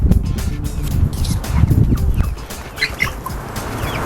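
Poultry in a backyard chicken coop and run, with a steady chorus of clucking and gobbling calls up close against a rumbling, wind-buffeted background.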